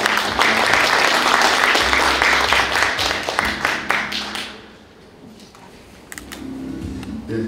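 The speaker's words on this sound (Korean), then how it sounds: "큰 박수 부탁드립니다." A crowd at an exhibition opening ceremony in Tongyeong claps steadily for several seconds, then the applause fades out to near quiet with a few scattered claps at the end.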